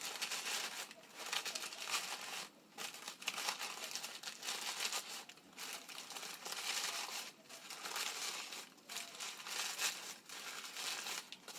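Thin tissue paper crinkles and rustles steadily as flower layers are pulled up one by one, close and fairly quiet with brief pauses between handfuls.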